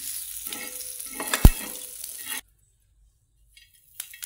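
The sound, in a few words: roasting ingredient in oil in a pan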